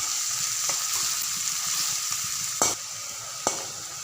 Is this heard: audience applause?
no